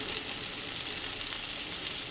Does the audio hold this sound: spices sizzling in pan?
yes